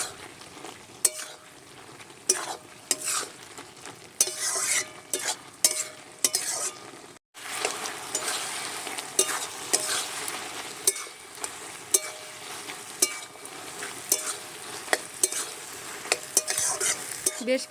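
Malabar spinach cooks with Bombay duck fish in a pan, stirred again and again with a metal spatula that gives steady scrapes and clinks over a soft, continuous sizzle, heard close and with no voices.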